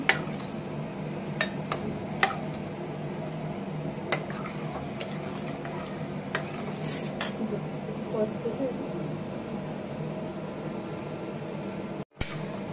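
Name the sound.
vegetables being stirred in a cooking pot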